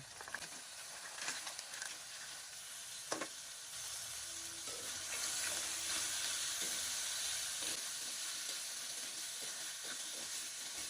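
Crabs fry in a pan of spiced masala with a steady, bright sizzle that swells louder partway through, broken by occasional scraping and stirring knocks.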